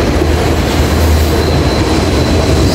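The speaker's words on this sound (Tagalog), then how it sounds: "Train!" A train pulls into a metro station, a loud steady rumble of rolling wheels with a thin high squeal running over it, close by and without voices.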